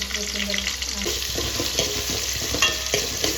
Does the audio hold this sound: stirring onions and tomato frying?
yes